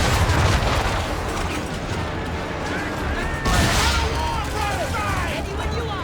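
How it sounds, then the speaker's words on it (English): Ship cannons fire broadside in an Assassin's Creed 3 naval battle: a loud crash lands partway through amid a rumbling barrage of blasts, with voices over the din. "Focus on our true target! Fire broadside!"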